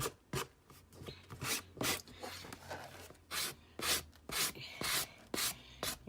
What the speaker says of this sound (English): I just do a little sanding to make the edges even